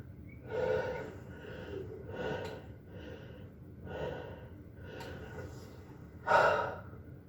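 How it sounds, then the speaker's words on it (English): A mule deer hunter pants heavily after a stalk, with loud, close gasping breaths and snorting exhales coming in an irregular rhythm. "I was breathing too hard"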